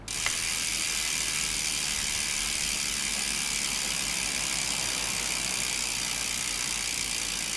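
Rear hub freewheel of a Force G-Carbon cyclocross bike ticking as the wheel coasts, a fast, fine, continuous ratchet buzz held steady and close for several seconds with no one talking.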